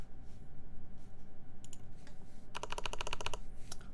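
Typing on a KBD75v2 mechanical keyboard with Holy Panda switches and Cherry stabilizers, a soft scattered start and then a fast, even burst of crisp clacky keystrokes, close up over a low hum.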